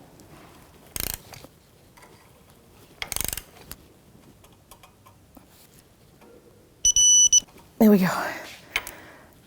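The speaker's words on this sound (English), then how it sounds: "Now we'll get the torque wrench and torque it up." Torque wrench tightening a strut mount nut on a 2007-2017 Jeep Patriot 2.4L, heard as short ratcheting clicks in separate bursts amid quiet workshop sounds, ending with a louder click burst; someone speaks briefly.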